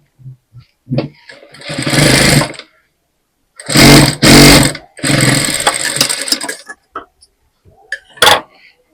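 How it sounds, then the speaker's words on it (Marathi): An electric sewing machine stitches the shoulder seam of a ready-made dress in short bursts, loud whirring runs of a second or two separated by pauses, with brief clicks and a final quick spurt. "तर बघा इथे पण शिलाई मोठी असते त्याच्यामुळे आपल्याला इथे शिलाई मारून घ्यायची"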